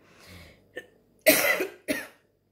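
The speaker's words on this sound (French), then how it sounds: "ma toux elle est encore un petit peu là" Three separate coughs from a woman with a lingering cold, a soft one, then two harsh, loud ones close to the microphone, with short silences between them.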